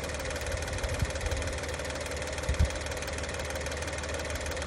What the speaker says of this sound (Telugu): ఎలా ఉంది ఇప్పుడు ఇంజిన్ నాయిస్?